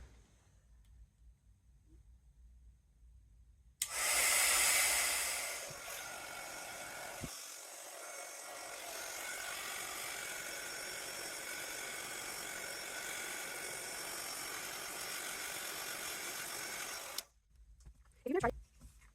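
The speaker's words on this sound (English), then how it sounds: "let's bring in our heat tool and emboss it" A heat embossing tool blows hot air over embossing powder on a handmade Christmas card, a steady loud whoosh that starts abruptly, runs for about thirteen seconds and cuts off, with faint clicks afterward.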